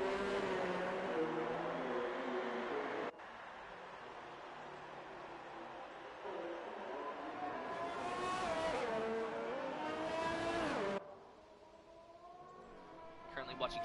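A McLaren Formula 1 car in an F1 video game lapping the Mexican Grand Prix circuit, its high engine whine rising and falling through gear changes and corners, with a voice talking over it.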